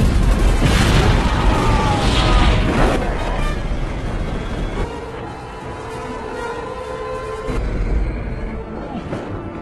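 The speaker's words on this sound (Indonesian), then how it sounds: "satu tank pun menembakkan meriam yang membuat Mace mengalami luka parah" A loud, heavy boom from a tank cannon firing in a film, with rumbling blast noise that rolls on and gradually fades under lingering low roar.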